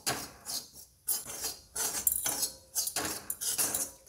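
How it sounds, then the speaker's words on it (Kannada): Wheat flour roasting in ghee in a pan, a spoon scraping and clinking against the metal in quick irregular bursts, close by with short pauses between strokes. "ಇದನ್ನು ಇವಾಗ ಸ್ವಲ್ಪ ತುಪ್ಪದಲ್ಲಿ ಹುರ್ಕೋಬೇಕೀಗ"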